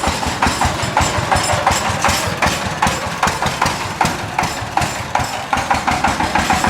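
Diesel engine of a sand delivery truck idling nearby, a loud, steady rhythmic chugging with regular knocking pulses and no voices.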